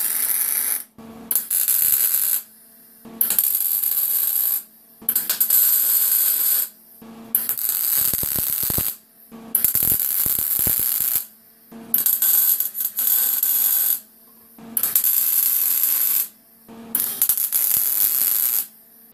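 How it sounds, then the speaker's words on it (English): Tack welding roll cage roof bars on a drift car build: repeated bursts of harsh, crackling welding buzz a second or two long, separated by short silent gaps, loud and close. "I'm going to very, very gently walk in here and tack it in place"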